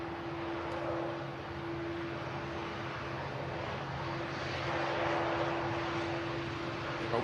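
A Virgin Atlantic Airbus A350 departs an airport for Orlando, its jet engines giving a steady distant roar with a sustained tonal whine. The roar swells slightly toward the end and plays without voices.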